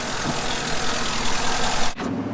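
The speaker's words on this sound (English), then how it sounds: "I'm gonna go take a nice listen to the purr of the engine now" A truck engine idles with a steady, constant rumbling drone, loud and close, briefly dipping near the end before resuming, with no ticking.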